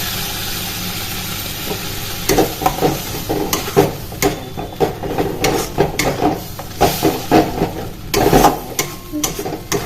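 A spice paste mixed with cashews, raisins and milk fries on a low flame, a soft continuous sizzle broken by repeated scraping and stirring strokes of a spoon against the pan, close by.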